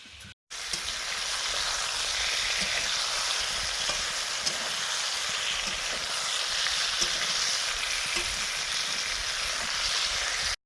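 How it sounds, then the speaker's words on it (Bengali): Eggplant slices fry in hot oil, a bright, steady sizzle heard close up and uninterrupted after a brief gap at the start, with no talking. "বেগুন ভাজা হয়ে গেছে অর্ধেকের বেশি।"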